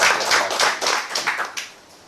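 An audience applauding to welcome Dr Sagar Joshi: a short, dense burst of hand clapping that quickly thins out and fades away.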